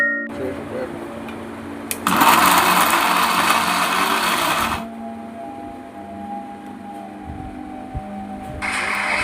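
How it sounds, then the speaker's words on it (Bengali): A mixer grinder mincing small pieces of chicken meat runs in a loud whirring burst, stops, then starts again near the end, with a lower motor hum and background noise in between. "মুরগির মাংসটিকে ছোট ছোট কেটে নিয়ে মিক্সার মেশিনে দিয়ে অল্প কিছুক্ষণের তারে মিক্সার মেশিনটা ঘুরিয়ে নেবেন।"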